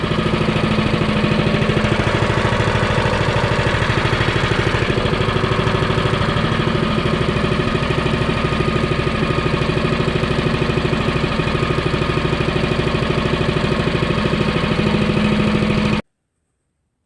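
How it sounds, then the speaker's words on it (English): A Harbor Freight wood chipper's small engine idles steadily at low speed during break-in, a close, constant mechanical drone that runs unbroken for about sixteen seconds before cutting off. "Just gonna let it idle at low speed and just kind of let it break in for a while."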